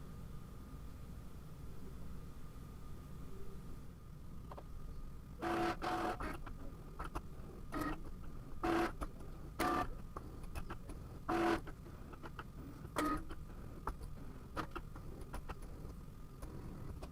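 A printer works on a Father's Day card, giving a low steady hum broken by short mechanical whirs and clunks at irregular intervals, fairly faint.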